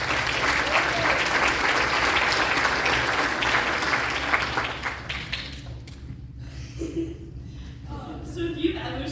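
An audience claps loudly at a middle school recognition concert; the dense applause fades after a few seconds into scattered claps and quiet room noise.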